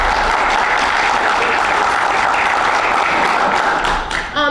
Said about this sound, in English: So I'd like to give a big round of applause to Memorial School.